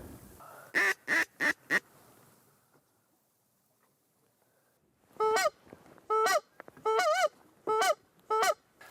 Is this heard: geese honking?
yes